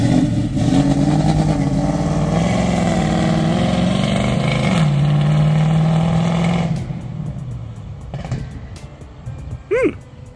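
A G-body Monte Carlo SS with a 6.2 engine drives and revs, a loud, close, throaty drone that rises and shifts pitch before easing off, with a brief higher squeal near the end.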